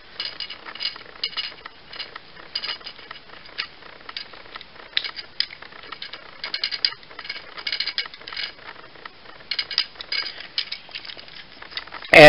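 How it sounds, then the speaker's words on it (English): A faux ratcheted joint on a Power of the Primes Evolution Optimus Prime action figure clicks in quick, uneven runs of small, close plastic ticks, thin and fairly quiet, with no talking. "I believe it's faux ratcheted, because you can hear it a bit better on this one"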